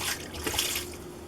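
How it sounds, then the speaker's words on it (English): A whole bottle of wine is poured over a Thanksgiving turkey in a pan, a steady close splashing trickle that runs without a break. "You want to put the whole bottle of wine right in there."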